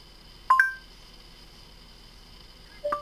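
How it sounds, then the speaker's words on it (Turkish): Android Auto in a Nissan Micra plays two short dialing tones for a phone call, each a pair of clear beeps, separated by a quiet pause of about two seconds. "Telefon aramalarına bir örnek gösterelim."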